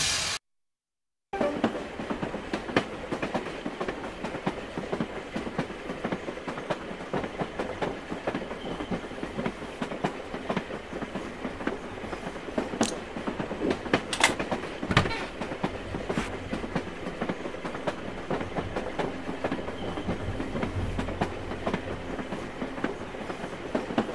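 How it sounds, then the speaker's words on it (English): Moving train in the video game Runaway Express rolls along with steady clickety-clack of wheels on rails and occasional faint squeals, a continuous moderate rumble throughout. "Oh my God, the train is moving!"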